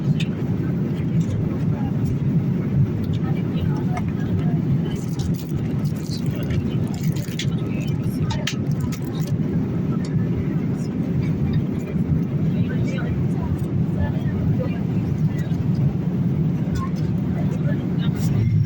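Steady low roar of a PIA airliner cabin as the flight begins its descent to land, a constant engine and air rush that holds at the same level throughout.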